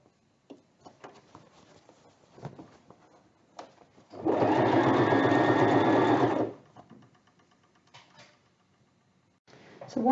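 A sewing machine stitches all the way around the top edge of a fabric plant pot cover in one steady, loud run of about two seconds, with quieter handling noises before and after.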